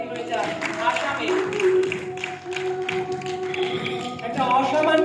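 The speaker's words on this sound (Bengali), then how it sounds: "জোরে একটা হাততালি হয়ে যায়" Loud, sustained applause from an audience at a prize distribution for an all-India Bengali short drama competition, steady dense clapping throughout with crowd noise and faint voices underneath.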